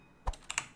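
Three quick clicks from keys being struck on a mechanical keyboard, close and crisp, with a short pause before the last two taps.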